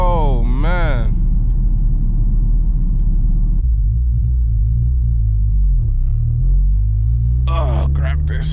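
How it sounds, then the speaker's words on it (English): A tuned 600hp Honda Civic Si throws out a loud, steady low rumble, its engine droning throughout while voices talk over it and shout at the start and end. "Stop blazing the tires."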